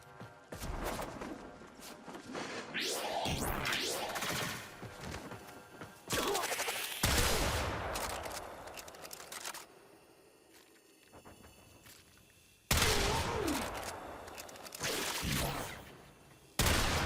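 Tigris shotgun blasts in Warframe, used by Mesa, sound as loud sharp bursts in uneven clusters with gaps of quieter ambience between volleys.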